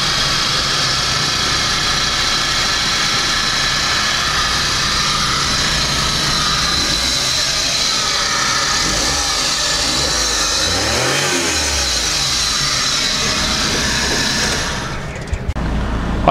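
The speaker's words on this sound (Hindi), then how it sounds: "अब क्योंकि मैं इंजन साइड पर आ ही गया हूँ, तो एक दफ़ा आपको साउंड भी सुना देते हैं।" A 2012 Mazda Scrum engine runs steadily at close range with a loud, even hum that holds for about fourteen seconds, with a brief low swell near the end before it cuts off. No one talks over it.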